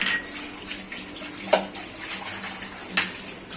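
Dishes being washed at a home kitchen sink under a steady run of tap water, with two sharp clinks of a utensil against a pot standing out over the constant rush.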